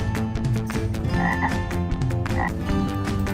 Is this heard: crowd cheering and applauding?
no